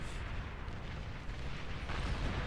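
Rocket explosions in the Beyond All Reason strategy game, a dense rumbling barrage of booms and blasts layered into a continuous roar with no speech.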